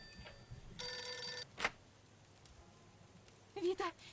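An old-style telephone bell rings in a short burst in a Mafia 2 game scene, followed by a brief clatter and a few faint sounds against a quiet background.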